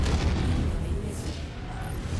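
A missile blast in the MechWarrior 5 mech combat game, a dense low rumbling boom sustained across the moment amid steady battlefield noise, loud and close.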